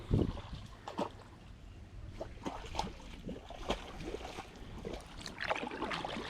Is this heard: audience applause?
no